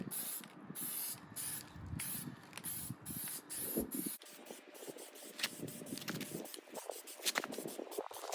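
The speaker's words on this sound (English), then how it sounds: "always keep your hand in motion as you're spraying" A spray can of Plasti Dip hisses onto car wheels in steady bursts with brief pauses between passes, close and continuous, accompanied by light handling clicks and scrapes.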